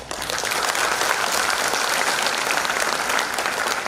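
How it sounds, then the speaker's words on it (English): Loud, sustained applause from a conference audience, dense steady clapping filling the room at even volume throughout, with no talk over it. "By clapping loud."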